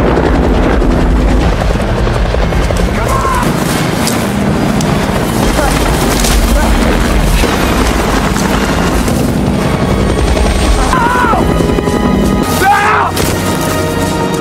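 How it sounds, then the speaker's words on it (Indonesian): A loud helicopter roars steadily throughout, rotor noise dominating with rumbling bursts and some indistinct sounds layered beneath. "Helikopter yang melakukan pencarian tidak menyadari keberadaan mereka."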